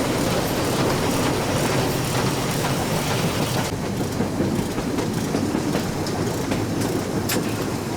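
Mastrou tourist steam train rolling along rails in Ardèche, a steady loud rumble of wheels with rhythmic clickety-clack over the track joints, carriage rattle and a hissy broadband wash throughout, close by with no voices.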